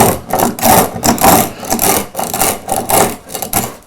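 Spokeshave carving wood along the folds of a hanging shirt sculpture, with loud, close rhythmic rasping strokes repeating roughly every half second.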